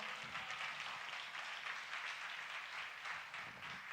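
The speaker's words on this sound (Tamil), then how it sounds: "கைத்தட்டி அவர் மையப்படுத்த பார்க்கலாம், நல்லா கைத்தட்டி பார்க்கலாம்" A church congregation at a Tamil promise service claps along together, producing a faint, steady wash of hand clapping that continues evenly for several seconds.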